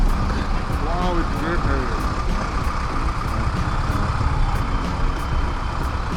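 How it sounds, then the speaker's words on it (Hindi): Heavy road traffic surrounds a rider on a Yamaha MT-15, with dense truck and engine rumble, a brief beeping tone and the hiss of air brakes, all loud and continuous, while someone talks over it. "बहुत ही ट्रैफिक है गाइस।"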